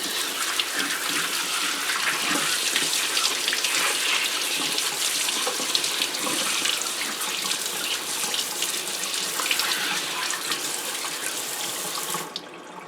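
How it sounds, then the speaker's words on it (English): Celery rinsed under a running kitchen tap in a sink, a loud steady gush of water splashing without a break until it cuts off near the end. "I'm going to wash my celery."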